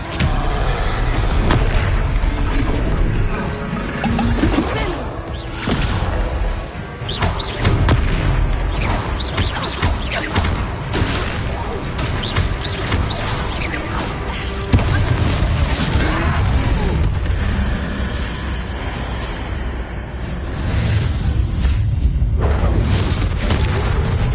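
A spell cast during combat in the Hogwarts Legacy video game, heard as dense, continuous booming impacts and crashes that stay loud throughout, layered with game effects and background music.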